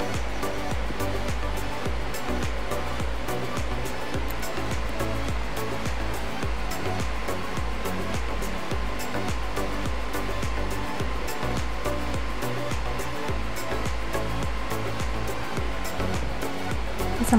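An overlock sewing machine runs steadily and loudly throughout, stitching the side seams of a jumpsuit with a continuous dense whir and fast rhythmic needle chatter.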